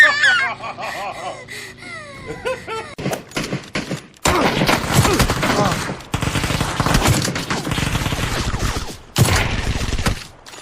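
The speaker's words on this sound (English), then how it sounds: "You go and shoot bad guys." Video game gunfire bursts out in loud, dense rattling volleys over game sounds and music, broken by short gaps, while a player shouts over the shooting.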